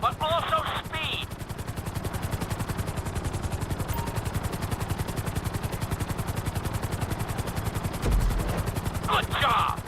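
A helicopter in the video game GTA 5 flies a marked flight-school course, its rotor thumping in a fast, steady chop that stays loud and close throughout.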